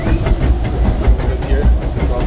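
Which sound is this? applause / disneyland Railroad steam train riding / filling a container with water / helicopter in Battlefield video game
disneyland Railroad steam train riding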